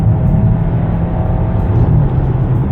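Hyundai Santa Fe HEV 4x4 2025 hybrid SUV of about 2,040 kg pulling away at full throttle, a steady, loud low engine and road drone filling the cabin throughout without any talk.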